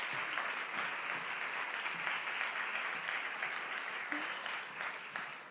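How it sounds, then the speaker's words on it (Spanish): A conference audience applauds steadily for several seconds, a dense, even patter of many hands clapping that holds and then eases slightly at the end. "os pido un aplauso para Ana."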